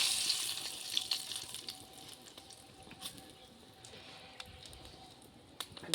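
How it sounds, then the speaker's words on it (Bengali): Dried red chillies sizzling in hot oil, a soft steady crackling hiss with faint scattered pops, fairly quiet and without talk. "তেল তো গরম হয়ে গেছে এখন দিয়ে দিচ্ছি কটা শুকনো লঙ্কা"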